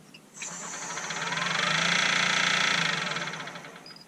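A wood lathe spins a workpiece up to 1700 RPM for a turned bottle opener. The motor whine rises smoothly, holds a steady hum with a faint rhythmic flutter, then starts to ease off near the end.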